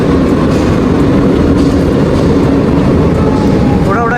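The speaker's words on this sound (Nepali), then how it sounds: "सो मेट्रो आइपुगेको छ हाम्रो होइन" A Lisbon metro train runs at Oriente station, producing a loud, continuous rumbling roar of wheels and motors close by that stays steady throughout.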